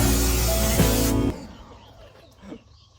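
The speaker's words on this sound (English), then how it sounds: "now it's just time to spray all the junk out" A pressurized spray blasts loudly for about a second as cleaner is sprayed onto a junkyard Chevrolet C10 truck's engine bay, then cuts off abruptly, leaving quiet shop ambience with a faint knock.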